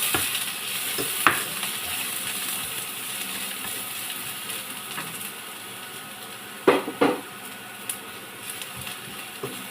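Garlic sizzling in olive oil in a pan for chicken adobo, a continuous close frying hiss with a few utensil clicks and sharper bursts along the way.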